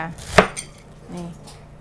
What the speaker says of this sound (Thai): มะเขือเสร็จแล้วเราก็จะมาหั่นกระหล่ำเลยค่ะ